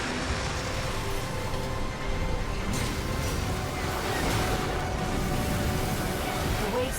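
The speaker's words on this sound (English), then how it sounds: "The waves are intensifying." Broad, steady roar of crashing waves in Armored Core 6, continuous and loud throughout, a dense wash of noise with no clear breaks.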